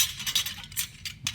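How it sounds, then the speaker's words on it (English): Metal bolts clink and tap as they are set back into a Briggs and Stratton four-stroke engine during reassembly, a few quick, light metallic contacts close by. "And then we put our bolts back in the same order that we took them out."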